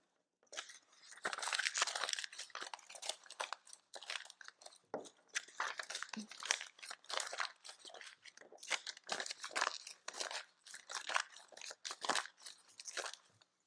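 An old book page crumpled by hand close to the microphone, a long run of crisp, crackling crinkles in irregular bursts with short pauses, with no talking.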